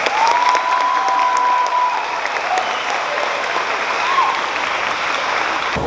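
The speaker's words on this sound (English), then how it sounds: "join me in giving Mrs. Brown, who will be performing the national anthem, a round of applause" At a graduation ceremony, a crowd gives steady, sustained applause ahead of the national anthem, a broad wash of clapping with a faint whistle or cheer riding above it.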